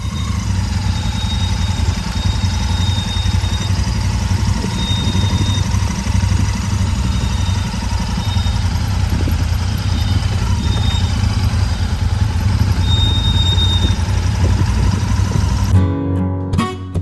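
A motorcycle suited to A2 licence holders idles and runs steadily in front of a shop by Vauclin beach before a test ride, a loud close continuous engine drone that cuts off near the end.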